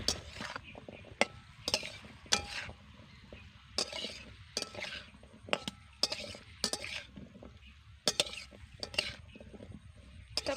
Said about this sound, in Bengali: এবার সব কিছুকে ভালো করে মশলার সঙ্গে মিশিয়ে নেব